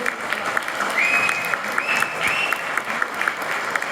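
An audience at a Yugadi festival cultural evening bursts into applause for a performer, a steady wash of clapping filling the whole stretch, with a faint voice over it.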